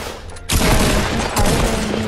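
Gunfire in a video game, a dense loud crackling barrage that begins abruptly and rolls on continuously, with low booms underneath.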